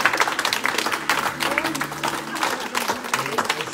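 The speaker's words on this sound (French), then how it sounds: "on peut applaudir toutes les mamans si vous êtes d'accord" An audience applauds the mothers at a French community gathering, a steady crackle of clapping hands with voices mixed in throughout, moderately loud and continuous.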